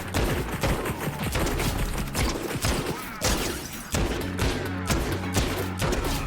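Rapid weapon fire in the Fortnite video game, dense bursts of sharp shots and thuds firing in quick succession, loud and continuous throughout with mechanical clatter.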